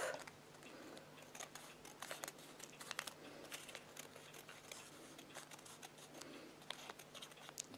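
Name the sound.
scissors trimming edges of paper poppy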